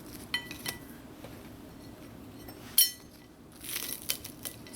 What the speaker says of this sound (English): I just want to cut into one and show you all how crispy it is.